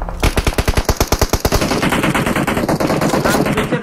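Video game gunfire in a shooter match: a rapid burst of about fifteen loud, sharp automatic shots close up, trailing into a denser rattle of fainter fire and echoes.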